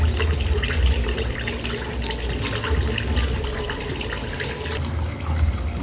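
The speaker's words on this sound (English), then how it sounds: "That's how you wash clothes." Clothes being hand-washed in water by a traveller, giving a steady sloshing, splashing churn of water that runs continuously and fairly loud throughout, with no voices.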